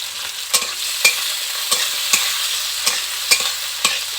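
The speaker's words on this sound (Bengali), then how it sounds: "একটু ভেজে নেব পেঁয়াজটাকে" Onion, tomato and slit green chillies fry in a pan for a fish curry, a steady loud sizzle broken by regular scraping strokes of a spatula about every half second, close up with no talk.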